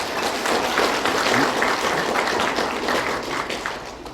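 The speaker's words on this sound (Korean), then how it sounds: "동의하시면 박수 한번 쳐보세요." Audience at a New Year lecture event in Haenam clapping together, a dense sustained burst of applause that fades slightly toward the end.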